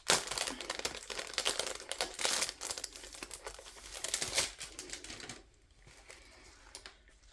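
Plastic packaging of a diamond painting kit crinkles and rustles up close in a run of dense, crackly bursts, then goes quiet near the end with a few faint handling sounds.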